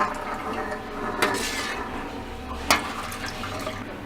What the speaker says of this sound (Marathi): आवश्यकतेनुसार गरम करून घेतलेलं पाणी घालायचं आणि चांगली उकळी काढून घ्यायची